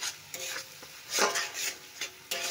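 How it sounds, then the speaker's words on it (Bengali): Mustard and garlic paste frying in oil, stirred in a pan with a bright hiss and scraping strokes that swell and fade in short bursts; no talk. "তখনই এই যে সর্ষে আর রসুনের বাটাটা নিয়ে দিয়ে দেব। এটাকে একটু নেড়ে নেব।"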